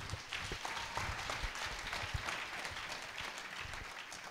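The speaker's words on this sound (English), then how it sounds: "Clap in for the glory of God." A church congregation claps together, producing continuous, fairly faint and distant applause with no speech over it.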